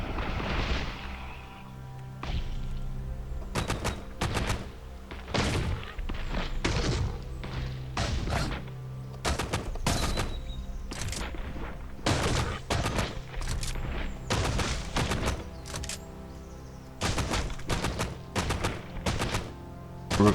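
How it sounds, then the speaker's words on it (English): Guns firing bullets at a Feral Law enemy in Caves of Qud, a long run of sharp, loud shots in irregular bursts, some clustered rapidly, others spaced apart, over a faint steady background tone. "We're gonna dump a lot of bullets on you, Feral Law"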